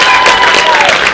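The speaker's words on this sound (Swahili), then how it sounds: "Tumpigieni makofi." An audience claps for the chief guest at a school sensitization session, a short dense burst of applause close by with a few scattered voices.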